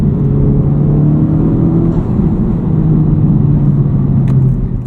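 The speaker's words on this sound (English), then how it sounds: "A 3K clutch dump." Honda Civic Type R FL5 engine held steady near 3000 rpm for a clutch-dump launch, a loud continuous low rumble and drone that stays level throughout with no voices.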